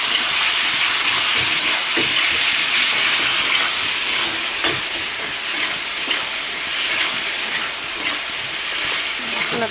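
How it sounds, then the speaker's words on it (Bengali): A ground paste of ginger, garlic, onion, green chilli and tomato fries loudly in a pan. A dense, continuous hiss runs throughout, with scattered crackles and stirring clatters. "দিয়ে দিচ্ছি মশলাটা।"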